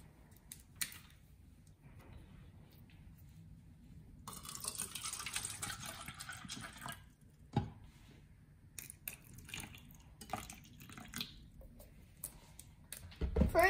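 Water pours from a PET plastic bottle into a container, a steady splashing gush for a few seconds with softer trickles and handling knocks around it.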